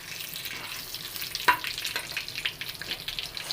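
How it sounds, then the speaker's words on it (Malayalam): Whole spices, cinnamon, cloves, cardamom, bay leaf and fennel seeds, fry in ghee and oil in a kadai with a steady, close crackling sizzle, one sharper pop partway through and no voices. "ഒരു കടായി അടുപ്പത്ത് വെച്ചു. ഒരു സ്പൂൺ നെയ്യ് ഒഴിച്ചു."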